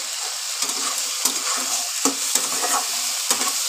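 Tomatoes fry in hot oil in a pan for a Bengali bottle gourd, potato and prawn curry, giving a continuous close sizzle broken by stirring scrapes at irregular intervals, with no talk.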